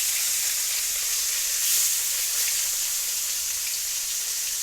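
Vegetables fry in hot oil in a pan, giving a bright, even, close hiss of sizzling with no voices over it.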